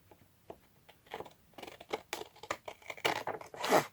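Scissors cut a piece of paper for a handmade 3D tunnel book journal: soft, close crinkling and snipping sounds, quiet and irregular, grow a little louder and busier toward the end.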